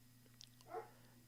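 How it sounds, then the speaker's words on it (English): A dog barks once, faint and somewhat distant, over a steady low electrical hum indoors during a live news commentary. "I'm sorry for the barking."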